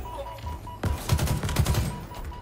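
Bursts of rapid automatic gunfire in Halo Infinite, a quick flurry of close, punchy shots following a quieter lead-in.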